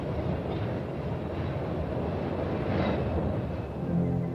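A PATH commuter train runs with a loud, steady, continuous rumble and low roar, and faint wheel and rail noise rises slightly near the end.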